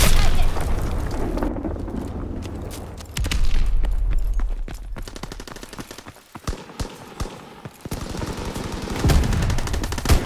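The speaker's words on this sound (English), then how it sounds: "Dropping Fritz X bomb." Fritz X bomb strike in Call of Duty: WW2 on the Gibraltar map, with heavy booming blasts and rapid crackling gunfire bursts, loud and close, rumbling in waves before scattered shots trail off.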